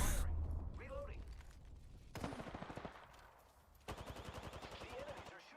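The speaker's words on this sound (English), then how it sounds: "The enemies are shooting at me." Enemy gunfire in the battle royale shooter Apex Legends, bursts of rapid rhythmic shots coming in two main volleys, fairly faint and distant, with talk and other game sounds mixed in.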